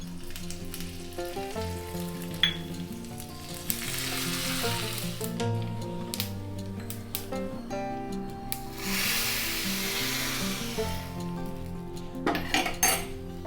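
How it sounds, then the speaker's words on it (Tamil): Mustard seeds and cumin crackle and sizzle in hot ghee with curry leaves while a metal spoon clinks and scrapes against the pan, steady and close. "இப்போ நெய் காஞ்சிட்டு கடுகு, சீரகம், கொஞ்சம் கருவேப்பிலை தாளிக்க போகிறோம்."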